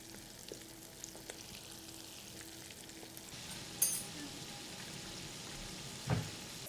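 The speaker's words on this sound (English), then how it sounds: "So as our chicken continues to fry and brown" Chicken wings frying in hot oil for game-day hot wings, a steady faint crackling sizzle running throughout with a couple of brief louder pops or clatters.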